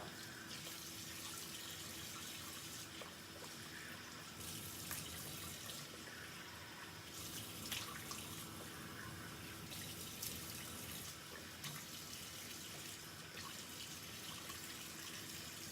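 Water runs steadily from a tap during a facial cleansing routine, a faint continuous hiss with slight shifts in flow, and no voices.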